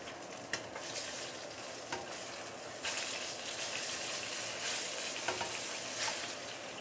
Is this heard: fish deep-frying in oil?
yes